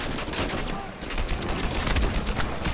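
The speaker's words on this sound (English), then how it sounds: "Oh, getting shot at there for a minute." Dense, rapid gunfire from a firefight in Uncharted 4, a continuous loud fusillade of overlapping shots and bursts with no break for the whole stretch.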